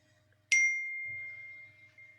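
A bright chime sounds once for a participant joining an online cooking demonstration session, a sharp strike that rings out in a long, steady tone and fades slowly, with a faint low hum underneath.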